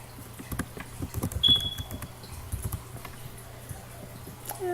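Keys tapped on a computer keyboard in short, quiet bursts of clicks, fairly close, with a brief faint electronic beep partway through and no talking.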